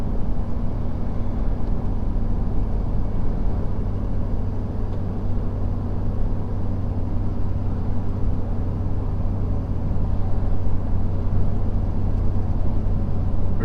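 A diesel pickup truck towing a heavy trailer of about 25,000 pounds gross climbs a hill in sixth gear at around 1500 RPM. Its engine gives a steady, close, unbroken low drone and rumble from inside the cab.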